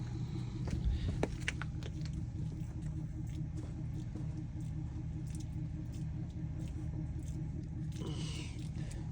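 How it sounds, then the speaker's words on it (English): A car drives past on a remote rural road, a low steady rumble beneath idle noise, faint and distant, with a brief rise near the end. "It's like we just have this car come by us"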